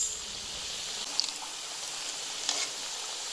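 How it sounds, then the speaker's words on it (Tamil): Thattai rice crackers for Diwali deep-fry in hot oil, a soft steady bubbling hiss with a couple of brief crackles, quiet and even throughout. "நல்லா நம்ம தட்டை நல்லா வறுபட்டுருச்சு, பொரிஞ்சிருச்சு."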